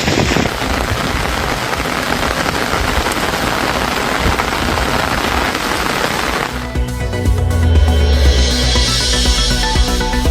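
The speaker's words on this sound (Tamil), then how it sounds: "சிதம்பரம், சீர்காழியிலும் திடீர் மழையால் மக்கள் மகிழ்ச்சி." Steady, dense rain falling on surfaces during a sudden shower in Tamil Nadu towns, heard alone for about ten seconds, with the texture shifting partway through to heavier low rumbling and a brighter hiss.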